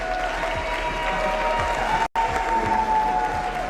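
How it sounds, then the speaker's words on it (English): An awards-ceremony audience applauds nominees and laureates, a steady wash of clapping with a brief dropout midway, some faint tones and murmurs underneath. "Please make some big applause for all our nominees and laureates this year"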